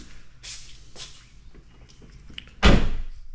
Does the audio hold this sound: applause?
no